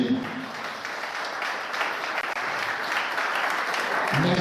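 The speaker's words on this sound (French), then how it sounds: "Et je vous demande même de vous applaudir" An audience at a French-language gathering claps continuously in a full, even round of applause, with a voice briefly audible near the start and again near the end.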